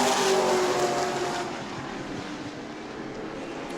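Pro Truck race cars at New Smyrna, an engine roar that is loud at first and then fades into the distance, with no talk.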